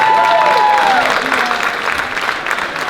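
A round of audience applause, dense clapping from a crowd that is loudest at first and tapers off over a few seconds, with voices and a bit of cheering mixed in.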